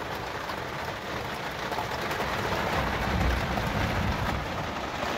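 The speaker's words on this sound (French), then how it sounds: "Parce que là, ça tombe vraiment très très fort." Heavy rain pounds on the roof of a camper van during a storm, a dense, loud, unbroken roar that swells slightly toward the middle, with no voices.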